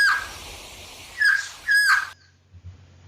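Call of the quetzal, the sacred bird of the Mayas: two loud descending chirped notes, each with a bright, ringing tail, following a softer opening chirp, then falling silent.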